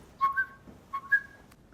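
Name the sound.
whistle imitating a bird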